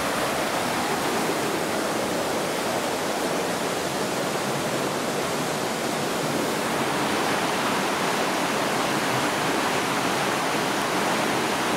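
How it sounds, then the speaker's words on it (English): A river in Greece, at a baptism spot reached by steps, rushes steadily in a dense, unbroken wash of flowing water that fills the whole stretch at an even level. "We're coming down some of the steps to a river."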